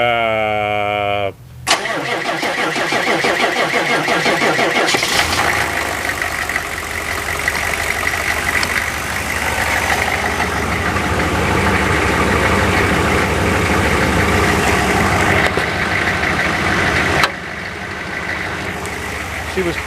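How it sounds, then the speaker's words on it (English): An engine with a weak battery cranks over slowly in cold November weather, the starter laboring for a moment before the motor catches and settles into a steady, loud idle that continues to the end. "So you'll hear how slow she cranks"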